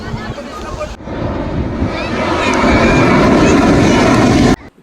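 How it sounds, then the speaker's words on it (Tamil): Airplanes flying low near Mumbai airport by Juhu Beach: a broad roaring rush builds steadily and loudly over several seconds with wind buffeting the microphone, then cuts off abruptly. "ஒரு நிமிஷத்துக்கு ரெண்டு ஃப்ளைட்டு மூணு ஃப்ளைட்டு போகுது வருது பயங்கர பிஸியாக இருக்குது"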